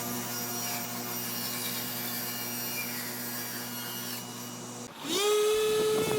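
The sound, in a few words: cutting oversized wood pieces with dovetail tenons to size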